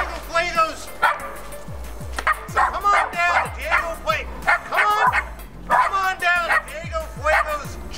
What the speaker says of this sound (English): Right next to these goddamn dogs.